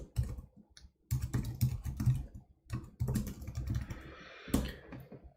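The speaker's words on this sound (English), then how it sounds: "We were typing here." Rapid clicking keystrokes on a computer keyboard, close and clear, coming in bursts with short pauses between runs of typing, with no voices.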